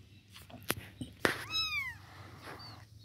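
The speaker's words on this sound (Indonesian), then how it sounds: "tingkah laku dari kitten dan mak kitten" A kitten meows in a run of rising-then-falling cries, with a few soft clicks and bumps before it and a faint second call near the end, close and clear over a quiet background.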